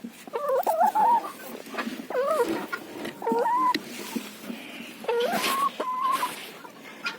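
A laying hen clucks repeatedly up close in a poultry nesting area, giving several rising, warbling calls in short bursts with brief pauses between them.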